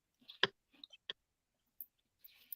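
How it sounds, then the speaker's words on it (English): A few sharp, separate clicks, like keys being struck on a computer keyboard, land at uneven intervals in a quiet room, with long silent gaps between the short taps. "I was typing something."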